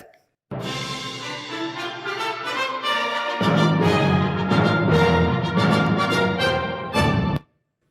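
Bright, upbeat orchestral music plays alone, strings and brass swelling fuller partway through, then stopping abruptly near the end.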